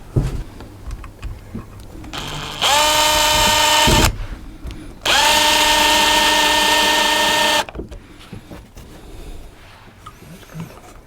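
A power drill drives screws into wood during the restoration of a 27 ft Nauticus cruiser boat. There are two loud, sustained whirring bursts of a few seconds each, with quieter handling noise between and after them.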